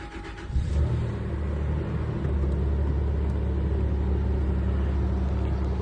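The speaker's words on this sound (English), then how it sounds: "You got to put the clutch in to crank it" A car engine cranks briefly and catches with a clutch-in start, then settles into a loud, steady low rumbling idle close by.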